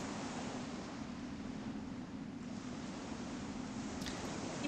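In EverQuest, a continuous low roar of ocean waves and breeze hangs at a moderate distance, steady and unbroken, with one faint click near the end.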